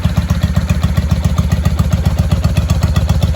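A 1995 Honda Shadow VLX VT600CD motorcycle's V-twin engine fires up and runs with a loud, rapid, lumpy throb pulsing evenly throughout, heard up close without talk.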